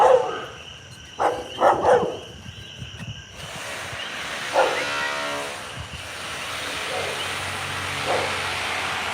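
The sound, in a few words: dog barking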